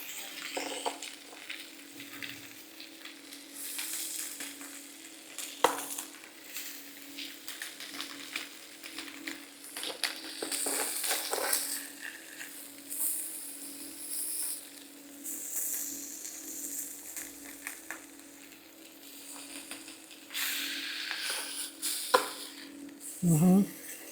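Steak frying in a pan gives a long, steady sizzle that swells and fades as the meat is moved, with occasional scraping and clinking of utensils nearby and faint background voices.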